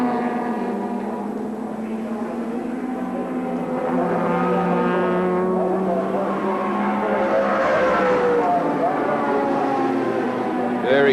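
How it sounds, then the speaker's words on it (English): V8-powered 1984 sports sedans roar down the straight at Sandown racetrack at around 240 km/h, a sustained loud engine drone with rising and falling pitch as cars pass, with commentary talk throughout. "the big V8 powered cars, getting up around 240 kilometres an hour"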